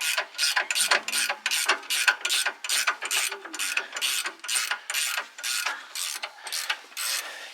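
An impact wrench removing the axle from a Chevy Express van with an open differential, firing in a steady series of about fourteen sharp rattling bursts separated by short pauses, loud and close with no talking.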